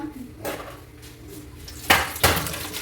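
Steel lunch box and food containers knocked and clattered in a home kitchen, a few scattered clinks followed by two sharp, loud metallic clanks near the end, with a little talk around them.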